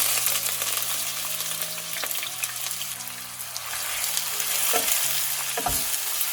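Chopped onion fries in hot oil with dry red chilies, bay leaves, cloves, cardamom and cinnamon sticks for a Bengali chicken curry, a steady close sizzle with scraping stirs and a couple of soft knocks toward the end.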